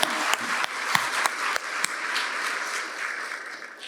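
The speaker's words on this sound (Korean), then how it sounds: "하나님 앞에 영광의 박수." Church congregation clapping together in a steady burst of applause during an Easter service, moderately loud and continuous with a few sharper claps standing out, no voices over it.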